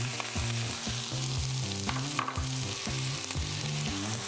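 Onions and garlic sizzle steadily in olive oil in a pan, with a continuous close frying hiss and rhythmic scraping knocks of stirring throughout.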